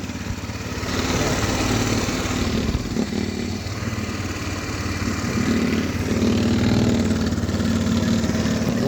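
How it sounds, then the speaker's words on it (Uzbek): A 150cc automatic scooter with a full petrol tank runs continuously nearby, a steady mid-pitched engine drone with slight surges and no talking over it. "tank skuter bo'ladi, 150 kub"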